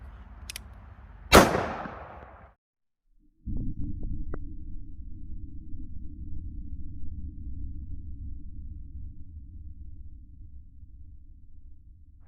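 A North American Arms Black Widow pocket revolver in .22 Magnum fires a single sharp, loud shot near the start, followed by a short gap and then a steady low rumble.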